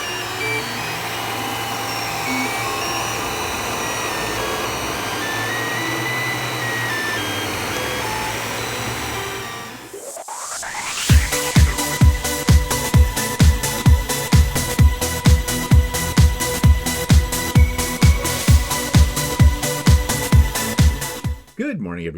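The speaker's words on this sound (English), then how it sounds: "Listen, my printer makes music." A printer running through its cycle, first a steady whirring hum, then after a brief pause a series of rhythmic, evenly spaced mechanical pulses that rise and fall in tone like a tune, loud and close.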